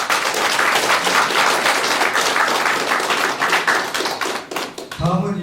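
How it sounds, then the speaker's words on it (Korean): A crowd at an election campaign rally applauds with sustained, loud clapping that fades toward the end before a voice cuts in. "승리의 박수 부탁드립니다"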